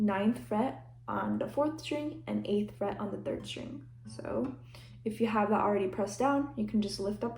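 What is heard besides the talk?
No everyday noise stands out behind the speech.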